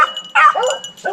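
A hunting dog out on a rabbit hunt barks and yips close by in a few quick, high bursts, with short whimpering gaps between them.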